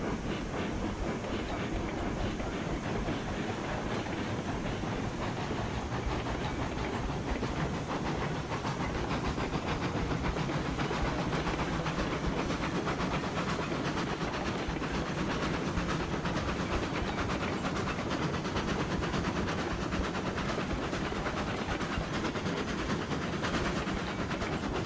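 A train rolls on rails in Railroads Online with a continuous rumbling clatter and a steady mechanical chuff, loud and close, with no talk.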